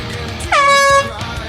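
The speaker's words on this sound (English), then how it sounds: "Cracker boxes, the next sound you hear is your 3-minute gun." A single warning horn blast of about half a second sounds at an annual boat race, signalling three minutes to the start for cracker box class boats. It is loud and steady over outdoor background noise.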